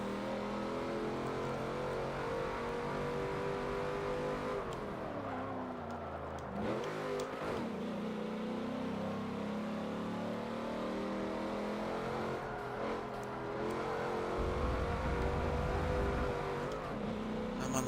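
A car revving and accelerating in a racing video game, a continuous engine whine rising and falling in pitch through gear changes, with a brief dip midway and a deeper surge near the end.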